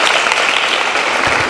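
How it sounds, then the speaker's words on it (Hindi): Students at an inter-college speak-out session applaud together, a dense, steady wash of clapping from a crowd in a hall, alone without talk. "तालियां।"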